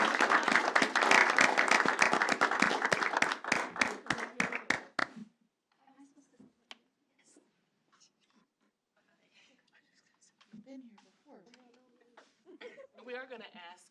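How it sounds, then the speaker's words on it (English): Audience at a school board meeting applauds award recipients for about five seconds, loud and dense, then the clapping ends abruptly and leaves quiet room sounds and soft, sparse talking. "We give them a round of applause."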